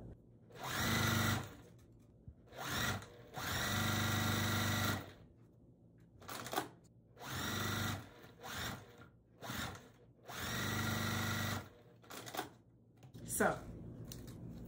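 Sewing machine stitching a quilt block seam for a barn star sampler, running in several bursts of steady whirring separated by short pauses, close and fairly loud.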